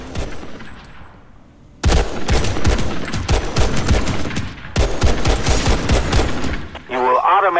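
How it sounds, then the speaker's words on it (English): Rapid automatic gunfire at targets in PlanetSide 2 while aiming down sights, loud and close, arriving in two long sustained bursts after a quiet start, with a brief mechanical clatter like a reload at the end. "Try shooting some targets while aiming down sights."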